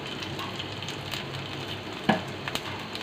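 Whole cumin seeds hit hot oil already holding crushed garlic and two dried chillies, giving a steady close sizzle with a sharper crackling burst partway through and a few small pops after.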